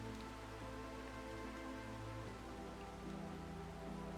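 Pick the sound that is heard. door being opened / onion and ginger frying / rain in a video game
rain in a video game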